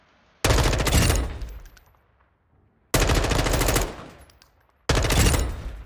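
An M4 rifle in Modern Warfare 2 fires on the firing range in three loud, close automatic bursts, each a rapid rattle of shots, with short silent gaps between them.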